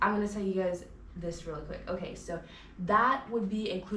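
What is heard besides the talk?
No everyday noise stands out behind the speech.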